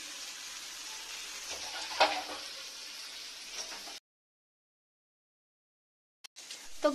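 Chopped onions sizzle steadily in hot oil in a home kitchen for a spicy egg pasta, a continuous close frying hiss that cuts to silence midway before a brief burst of sizzling returns.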